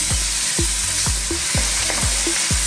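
Tomatoes cooking in a pan for Filipino-style spaghetti sauce, stirred in a steady rhythm of repeated spoon scrapes about every half second over a loud, constant sizzle.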